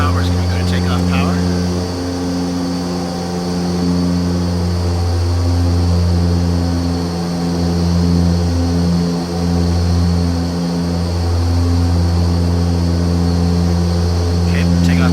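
Hawker Siddeley HS 748 turboprop engines at takeoff power in FSX, a loud, steady droning roar with a deep throbbing hum that swells and dips slightly throughout.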